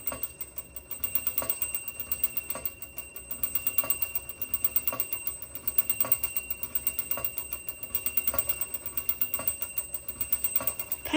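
A Super Jetter toy train's bell mechanism clicks and dings in a fast, even repeating rhythm, with a faint steady ringing tone running underneath, fairly quiet and with no voices.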